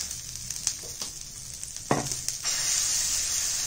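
Jackfruit dosa batter is spread on a hot griddle, giving a few soft scraping and tapping touches before a steady hiss of sizzling rises and holds, close and moderately loud with no talk.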